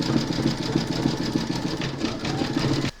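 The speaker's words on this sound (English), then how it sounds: "Make sure you've got your matching bobbin and thread loaded into your machine, and then stitch round number 10." An embroidery sewing machine stitching a coffee placemat in a hoop, a fast steady rhythmic needle chatter running loud and close before stopping abruptly.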